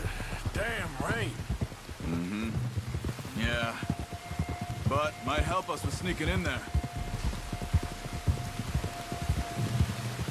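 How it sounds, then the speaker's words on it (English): Steady rain falling throughout an outdoor scene in the Western video game Red Dead Redemption 2, a constant patter under frequent spoken dialogue between characters. "You were right about the damn rain."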